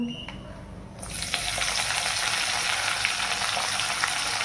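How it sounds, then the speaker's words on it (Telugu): Spices temper in hot oil for a Telugu fish curry: a quiet start, then a loud, dense crackling sizzle bursts in after about a second and holds steady with small pops, no speech. "అది బాగా కాగినాక పోపు పెట్టు"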